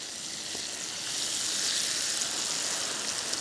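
Caramel bubbling and foaming in a pan on medium-low heat as it is stirred constantly, giving a steady close sizzle and hiss that swells slightly partway through.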